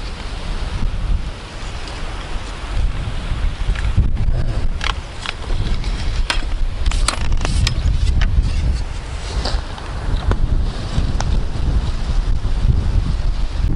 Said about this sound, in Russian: Ветер, конечно, ураганный.